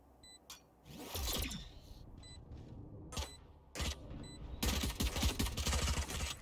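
Gunfire in the video game Valorant comes as several sharp bursts and single shots, loud and close, separated by brief quieter gaps.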